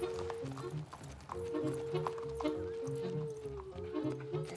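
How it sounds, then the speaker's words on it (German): Steady clip-clop of horse hooves at a walking pace, mid-distance, with a sustained tone running over them. "Das ist mein Pferd."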